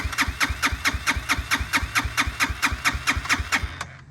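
A Hawk DLX motorcycle engine cranking over rapidly and evenly in freezing 10°F cold, the steady rhythmic starter pulses running for about four seconds before cutting off abruptly, loud and close with no talk.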